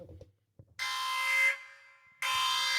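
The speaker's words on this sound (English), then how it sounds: "This is an unpopular opinion alarm." Loud buzzing alarm tone played as a sound effect, sounding in two sustained blasts of roughly a second or more each, separated by a short gap, after a few faint low thumps.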